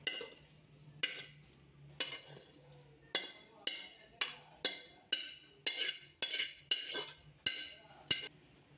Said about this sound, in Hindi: इसी चम्मच के साथ मिक्स कर लेंगे अच्छी तरह